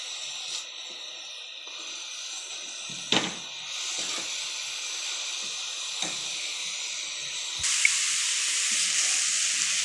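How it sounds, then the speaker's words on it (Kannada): Vegetables with carrot frying in a pan, a steady soft sizzle and hiss with a few sharp clinks of a utensil stirring, growing brighter and louder near the end. "ಹಸಿ ಅಂಶ ಹೋಗೋವರೆಗೂ ಚೆನ್ನಾಗಿ ಫ್ರೈ ಮಾಡಿ."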